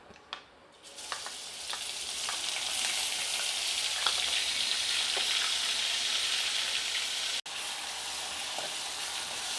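Chopped onion drops into hot oil with cumin and mustard seeds, starting a loud, steady, close sizzle with occasional pops that carries on unbroken apart from a brief cut near the end.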